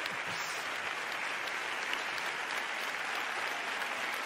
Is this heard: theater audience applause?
yes